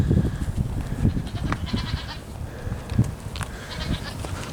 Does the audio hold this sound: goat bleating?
yes